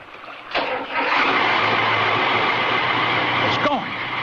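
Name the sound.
boat engine starting and running, radio drama effect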